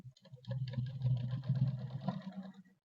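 A sewing machine runs in a short, steady burst of rapid mechanical stitching as a blouse is sewn, close and fairly quiet, starting and stopping within a few seconds.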